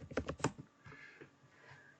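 Keys tapped on a computer keyboard while typing a text-editor name into a web search, a quick burst of close clicks in the first half second followed by a few softer taps.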